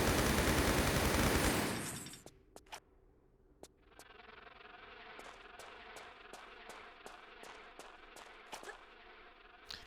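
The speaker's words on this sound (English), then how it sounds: "Now why don't we use the machine gun this time?" Machine gun fire in Tomb Raider 3 aimed at a mutant, a loud burst at the start that cuts off, then a string of sharp distant-sounding shots spaced out over several seconds against a low ambient hum.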